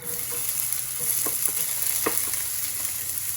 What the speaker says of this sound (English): just start sauteing the onions for right now